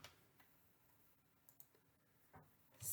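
A computer mouse clicks a few times, sharp and quiet, while labels are placed in Boardmaker 7 software; the short ticks are scattered against a near-silent background, with a louder burst at the end.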